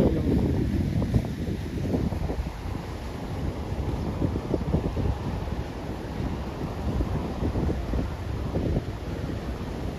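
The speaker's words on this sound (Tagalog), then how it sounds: "Ang ganda kasi yung hangin dito." Steady, rumbling wind buffets the microphone throughout, a continuous roar with gusty fluctuations and no voices.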